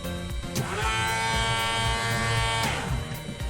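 Aircraft electric fuel pump priming before engine start, a steady whining electric buzz that rises in and holds for a couple of seconds before winding down, heard close inside the cabin.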